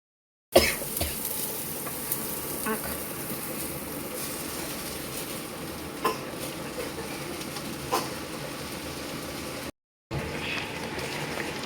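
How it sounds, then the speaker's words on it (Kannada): Green chillies and onion fry with curry leaves in hot oil, a steady close sizzle with occasional stirring scrapes and a brief gap near the end. "ಹಸಿಮೆಣ್ಕಾಯಿ ಫ್ರೈ ಆದಮೇಲೆ ಈರುಳ್ಳಿ ಆ್ಯಡ್ ಮಾಡ್ಕೊತಾ ಇದ್ದೀನಿ"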